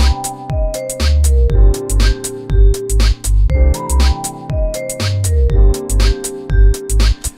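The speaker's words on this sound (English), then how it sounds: "And we also have here a vibraphone kind of deal." A short vibraphone loop rings out loud and close. Bright mallet notes repeat in a bouncy rhythm over a deep, pulsing low end with crisp percussive hits.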